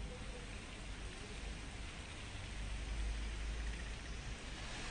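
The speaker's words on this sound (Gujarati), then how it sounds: "દાહોદના લીમડીમાં ધોધમાર વરસાદ વરસતા રસ્તા ઉપર પાણી ફરી વળ્યા." Heavy monsoon rain pours down in Limdi, Dahod, Gujarat, with water running over the roads, making a steady, loud, broadband hiss of rainfall with no talk.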